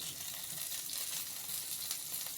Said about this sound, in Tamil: ஸ்லோ ஃப்ளேமில் ஒரு மூடி போட்டு குக் பண்ணுறேங்க